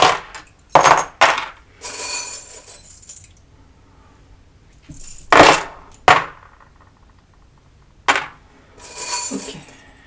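Small metal charms tossed and dropped onto a surface in several sharp clinking bursts, some single clinks and some longer jangling scatters, close and fairly loud with quiet gaps between.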